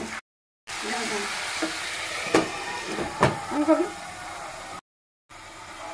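Spiced water poured into mutton-fat masala for ghugni hisses and sizzles close by, with a few stirring scrapes and bubbling swells. It is framed by brief silent gaps at the start and end.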